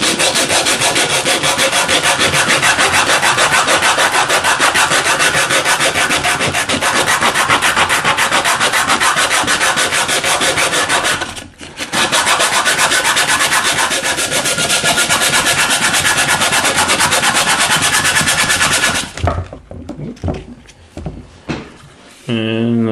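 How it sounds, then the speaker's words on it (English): Continuous rapid scraping of hand sanding on a cast iron pan, loud and close, with a brief pause midway and clatter near the end. "I'm not gonna bore you with me sanding all this"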